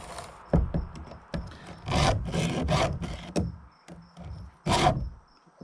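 A chainsaw chain being sharpened with a hand file, heard as a series of separate rasping strokes, some short and some longer, close and fairly loud with brief pauses between them and no talking.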